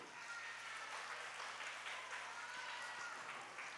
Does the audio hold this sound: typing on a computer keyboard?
no